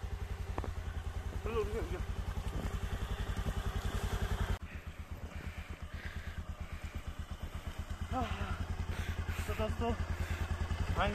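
Motorcycle engine on a snowy hillside village road, its steady low pulsing throb running loud and close throughout, with a brief dip midway and voices talking over it.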